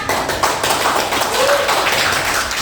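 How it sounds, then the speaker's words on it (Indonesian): Classmates in a teaching-practice classroom clap after a group presentation, with loud, close hand claps and scattered taps mixed with chatter, uneven rather than a full ovation. "Boleh tepuk tangan?"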